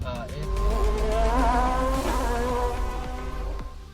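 A Honda Odyssey Sport minivan's 3.5-liter J35 V6 engine revs and pulls with a smooth rising tone, close and steady, while a voice talks over it.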